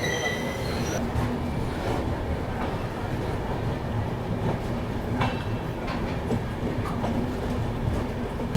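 A Yoga Express train pulls out of Abu Road station on the Delhi to Ahmedabad line, a continuous rumble of rolling wagons with rhythmic clicking wheels and occasional squeals, heard from inside the carriage with no talk.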